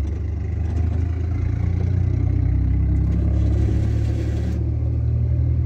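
Car engine revving steadily as the clutch is let out during a first-day driving lesson, a loud continuous low hum with slight rise and fall, close by with no talking.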